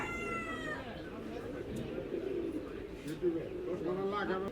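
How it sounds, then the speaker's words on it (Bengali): Pigeons coo in low, repeated calls at a busy pigeon market in Saruliya, Bangladesh, partly under background voices and crowd murmur. "এই যে যে কবুতরগুলো ভরা হচ্ছে"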